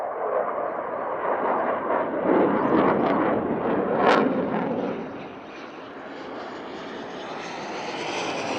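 Black Eagles jets in an aerobatic display victory break, a loud broad jet roar swelling overhead at close range, then easing off into a steadier distant rumble.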